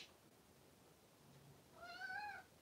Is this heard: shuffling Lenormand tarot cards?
no